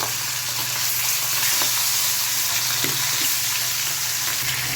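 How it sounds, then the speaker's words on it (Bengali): Tilapia pieces frying in hot oil give a steady, loud, close sizzle with a few faint clinks and stirring sounds throughout, and no one speaks. "খুব সাবধানে তোমরা ফ্রাই করো, একটা একটা করে ছেড়ো"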